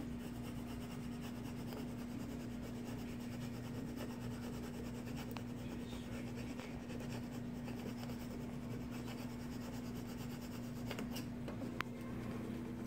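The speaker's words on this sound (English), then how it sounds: "You're going to burnish it onto the board." 651 vinyl being burnished onto a board, a close, continuous scratchy rubbing with a few small clicks over a steady background hum.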